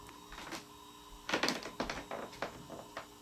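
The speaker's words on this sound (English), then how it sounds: "Somebody upstairs walking around." Someone walks around on the floor upstairs in a residential house, and the old boards creak. Faint, irregular knocks and creaks come in scattered bursts, with a denser cluster in the middle of the stretch and no voices.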